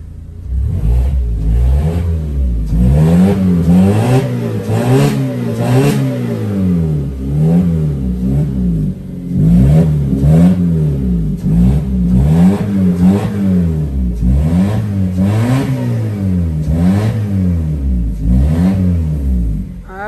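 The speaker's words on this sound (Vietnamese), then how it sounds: "Bô này thì em độ thương rất là trầm ống lắm, đạp lên rất là trầm, nghe rất là lực xe." A car engine with a modified, deep-toned exhaust revs repeatedly, each throttle blip rising and falling in a rhythmic series of loud, close booming surges over about twenty seconds.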